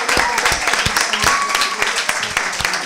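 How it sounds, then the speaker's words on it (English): Conference audience claps for a panel on the African diaspora and agriculture, a dense round of applause with distinct close hand claps standing out, steady and moderately loud throughout. "let's join me in giving our panelists a round of applause"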